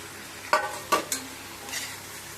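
Bitter gourd stirred and fried in a pan: three sharp spatula scrapes in quick succession over a faint background sizzle, then a softer stir.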